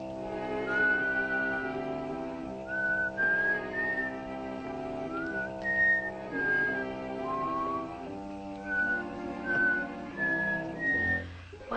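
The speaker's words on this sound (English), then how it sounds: "What does she keep on whistling for?" A person whistles a short signal of rising and falling tones, repeated several times over background music, moderately close.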